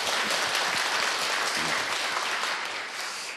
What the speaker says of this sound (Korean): 기리하는 마음으로 다시 한번 박수해 드리겠습니다